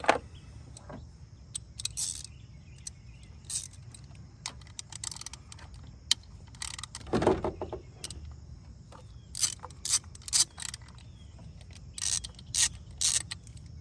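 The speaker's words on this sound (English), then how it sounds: "this requires a T40 Torx bit to be able to remove these" Close clicking and ratcheting of a T40 Torx bit loosening the ignition coil rail bolts on a Chevy Sonic engine during misfire repair, in intermittent short bursts with quiet gaps and no talk.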